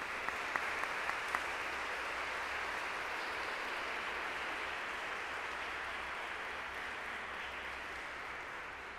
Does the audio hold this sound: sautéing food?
no